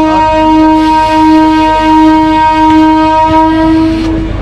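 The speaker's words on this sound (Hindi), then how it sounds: "ये देखिए एक बार फिर से लाल गोला ईमो पैसेंजर ट्रेन जा रही है" A Lalgola EMU passenger train sounds a loud, sustained horn close by while passing, its steady tone holding for several seconds over rumbling wheels.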